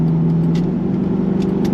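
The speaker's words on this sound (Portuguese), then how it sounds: "o borbulho mais gostoso que um escape pode produzir" A 1998 Ford Explorer V8 Limited idles with a deep, steady exhaust burble, a loud close-up low rumble that holds evenly throughout with no revving.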